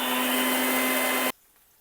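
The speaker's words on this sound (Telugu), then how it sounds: "అవి వేగుతున్నాయి నేను మిక్సీ వేసుకుంటా" A mixer grinder runs with a loud, steady, high whirring drone, close by, then cuts off abruptly after about a second and a quarter, leaving near silence.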